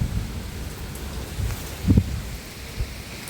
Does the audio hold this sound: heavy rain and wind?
yes